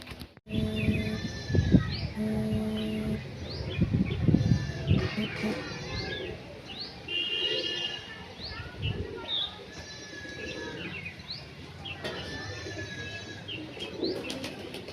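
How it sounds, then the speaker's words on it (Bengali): Pigeons, fancy and lokka breeds, released one by one, with bursts of wing flapping and clattering takeoffs, near and loud, alongside cooing and chirps and occasional faint background voices. "এক এক করে পায়রাগুলোকে ছেড়ে নিচ্ছি"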